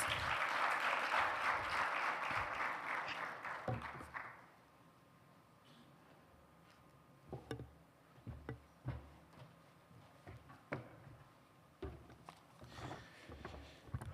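An audience at a youth-led ICPD30 dialogue event with the UNFPA Rwanda office breaks into dense, loud applause that lasts about four seconds, then cuts off into a quiet hall with a few scattered clicks and knocks.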